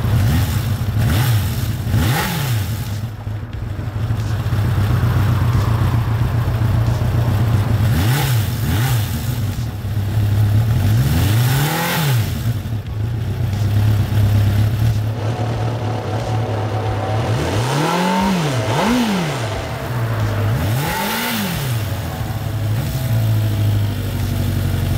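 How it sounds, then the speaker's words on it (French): A neglected Suzuki GSX 600F motorcycle being restored, its engine idling close by and blipped through several throttle revs that rise and fall, some bogging down as the carburetion chokes, with no speech. "on va essayer d'ouvrir un peu plus les gaz pour voir comment la carburation encaisse ça"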